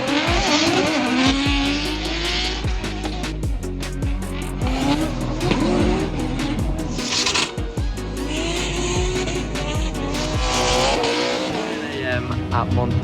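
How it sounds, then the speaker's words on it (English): Drift cars circle a dry Mondello Park track on practice laps to warm their tyres, engines revving loudly with repeated tyre squeal and skidding under a mix of music-like tones and voices, continuous and close throughout. "They're warming up their tyres, just doing a few practice laps."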